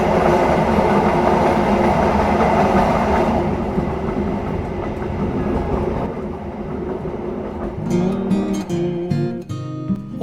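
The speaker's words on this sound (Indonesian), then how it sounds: "Kereta api Kaligung." Kaligung passenger train with executive and economy carriages rolling along the railway, a loud steady rumble of wheels and rail noise that eases slightly partway through, with clacking and brief squeaks toward the end.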